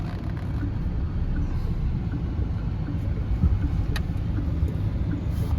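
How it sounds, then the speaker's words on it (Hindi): A Mahindra Scorpio N SUV idles and rolls slowly while turning in a narrow lane, giving a steady low engine rumble with faint road noise, close and continuous, without speech. "एक सेकेंड जरा मैं गाड़ी मोड़ लूँ आराम से"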